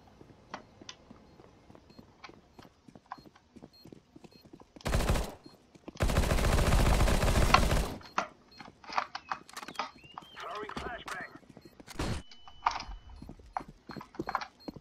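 Gunfire in Counter-Strike: Global Offensive, with scattered single shots, two dense automatic bursts in the middle, and footsteps and clicks between them.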